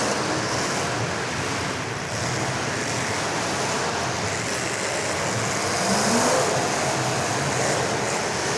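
Demolition derby car engines roar steadily at a distance, a broad, continuous rumble mixed with crowd and outdoor noise, with no talk over it.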